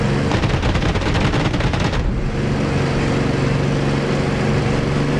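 In the flight game DCS World, rapid bursts of a World War II aircraft's automatic gunfire rattle loudly for about two seconds, then give way to a steady engine drone that continues to the end.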